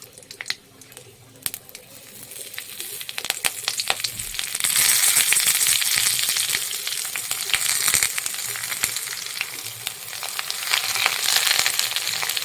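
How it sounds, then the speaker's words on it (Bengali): Cumin seeds and a bay leaf hit hot oil in a wok and break into a loud, steady sizzle that swells and holds, with a few clinks before the frying starts and no talking. "কড়াইতে সামান্য তেল দিয়েছি এর ভেতরে দিয়ে দেবো এই জিরাটা আর দিয়ে দেবো এই তেজপাতাটা"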